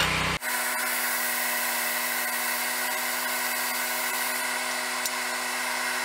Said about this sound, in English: Do a little bit of grinding here on what would be the clip point.